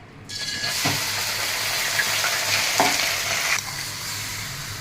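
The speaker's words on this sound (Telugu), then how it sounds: "ఇప్పుడు ఈ మామిడికాయ ముక్కలు ఈ అల్లం వేపిన ఆయిల్లోనే కొంచెం వేసుకుని ఫ్రై చేసుకోవాలి లైట్గానే" Grated raw mango drops into hot ginger-infused oil and sizzles lightly, a bright steady frying hiss with a couple of stirring scrapes, ending abruptly as the pan quiets.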